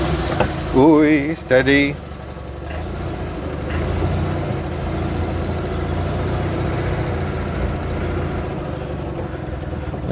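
An Invacar engine runs steadily with a mid-pitched drone as the small car pulls forward, following a short burst of revving at the start, while a person speaks briefly.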